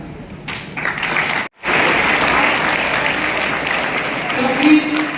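An audience at a school gathering with teachers and students claps steadily, a dense sustained round of applause broken by a brief cut, then continuing strongly to the end.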